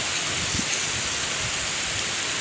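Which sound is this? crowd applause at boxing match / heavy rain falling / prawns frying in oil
heavy rain falling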